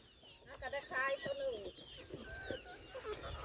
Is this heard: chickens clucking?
yes